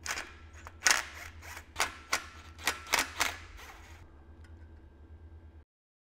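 Two 10 mm bolts removed from the oil pickup tube of a BMW M54 engine, heard as a run of sharp metallic ratchet clicks and taps close by that stop partway through and leave faint residual hum, with no talking.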